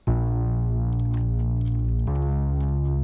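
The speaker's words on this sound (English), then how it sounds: "It's like a really big, juicy bass, bit of fuzz on top." A big, sustained synth bass with a gritty, fuzzy edge, holding one low note and then dropping to another about two seconds in. Loud and alone.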